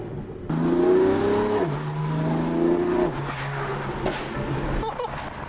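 BMW F80 M3 fitted with a single midpipe, catless downpipes and front-mount intakes, engine running loud and close with a sharp exhaust pop near the end, voices talking over it.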